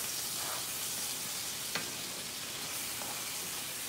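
Pork chops sizzle in a skillet as they are smothered and stirred, a steady close frying hiss with a few faint scrapes of stirring.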